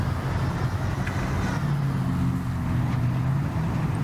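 A vehicle in the Jurassic World park-building video game brakes and reverses, heard as a steady, loud engine drone with a faint wavering tone, continuous and unbroken with no talk over it.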